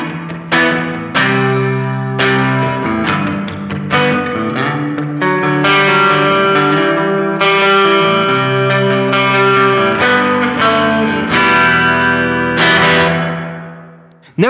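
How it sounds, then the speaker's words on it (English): Electric guitar played through a Matthews Effects Traveler pedal in its bright, lively spring-style reverb mode, with feedback near 60% and mix at 50%. Loud strummed chords and single notes ring and wash into one another for about fourteen seconds, then cut off abruptly. "In this mode, what we get is a spring-inspired reverb. Something similar to the Fender type spring reverb sound, so brighter, lively."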